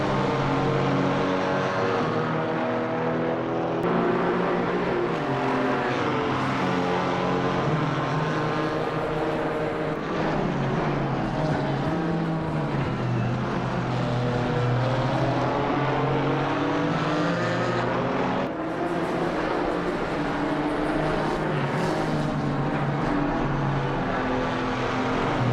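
GT4 race cars, a Porsche and an AMG, roar around the Zandvoort circuit, engines rising and falling through gear changes in a dense, loud, continuous drone without commentary.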